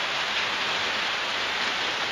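Rain falls steadily on a tin roof in Burns, Tennessee, a dense, even hiss of countless drops at moderate volume with no pauses or voices.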